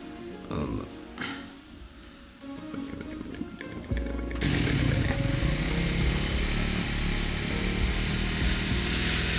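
Triumph Speed 400 motorcycle, scattered mechanical clicks and knocks first, then the engine catches and settles into a loud, steady close rumble that runs to the end.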